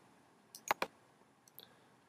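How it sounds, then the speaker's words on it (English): Two quick mouse clicks close together, followed by a couple of softer clicks, as a warning sign is clicked in MagicDraw UML modelling software with the SysML plugin; a quiet, dry room with no talking. "If I now click on the warning sign just once"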